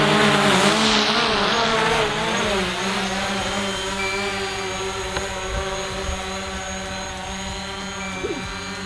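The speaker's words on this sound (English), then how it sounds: "So I'm going to land back on the sidewalk, Abby." A DJI Mavic Pro drone comes in to land on a sidewalk, its steady, loud propeller whine holding throughout and shifting slightly in pitch as it descends, with a brief knock near the end.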